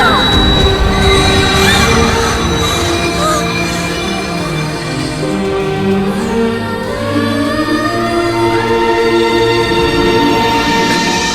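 A train rumbles by loudly and close, its wheels squealing and screeching in long tonal streaks over a dense roar, while urgent voices shout over the noise.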